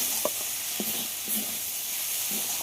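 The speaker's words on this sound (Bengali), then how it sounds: "লবণ আর হলুদ দিয়ে আবার একটু কষিয়ে নিতে হবে" Red lentils fry in a pan with salt and turmeric, giving a soft, steady sizzle broken by a few light stirring scrapes. The sound is faint and close, with no voices.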